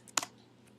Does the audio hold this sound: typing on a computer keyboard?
yes